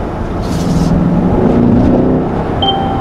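Mercedes-AMG S63 4Matic+ long-wheelbase sedan accelerating in sport mode, a loud steady engine drone that rises in pitch as it pulls, heard continuously close up without talk.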